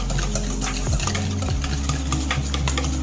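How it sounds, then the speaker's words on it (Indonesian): Pumpkin chiffon cake batter is whisked in a bowl until smooth, a loud continuous churning and scraping with a steady motor-like drone underneath, close and unbroken, with no speech. "ini kita kocok seperti ini sampai benar-benar rata banget"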